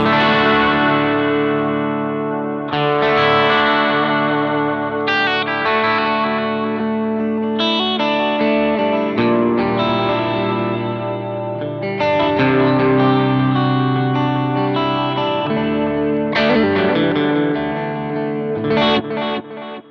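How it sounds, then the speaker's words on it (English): A guitar played through the space echo delay effect on a Boss GX-100 multi-effects processor gives sustained, layered chords. Repeating echoes and a chorus-like shimmer ring out loud and continuous, with new strums every few seconds. "Space echo. That's the iconic sound from Roland Boss."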